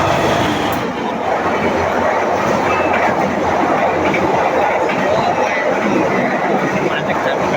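A passenger train runs on rails with a loud, continuous close rumble and wheel clatter, with voices faintly mixed into the steady roar.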